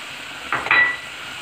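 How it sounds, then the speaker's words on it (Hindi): Butter added to a pan of chili, garam masala and ground cumin for restaurant-style butter chicken gives a short burst of sizzling and stirring, rising briefly over a quiet hiss before fading back. "और साथ ही हम इसमें डाल रहे हैं जी ये मक्खन।"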